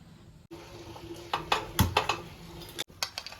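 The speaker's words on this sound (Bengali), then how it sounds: "আগে আমি ধনেগুলো ভেজে নিচ্ছি একটু" Coriander seeds and spices frying in a pan for a spicy chilli pickle, faint sizzling broken by sharp clinks and scrapes of a utensil against the pan.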